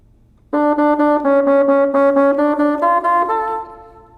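A bassoon plays a rapid stream of evenly tongued sixteenth-note sextuplets, stepping slowly through pitches, loud and close, then fades out.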